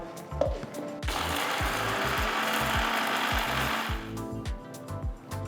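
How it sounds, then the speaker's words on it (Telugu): Dried red chillies with stems removed are ground to powder in a mixer grinder. The motor whirs up loudly and runs for about three seconds, while clicks and knocks of handling come before and after. "ఇప్పుడు నేను ఎండుమిరగాయల మట్టుకు ఫస్ట్ వేస్తున్నాను దీంట్లో కాడ తీసేసి వేస్తున్నాను వీటిని ఇప్పుడు బాగా పొడి పట్టుకోవాలి"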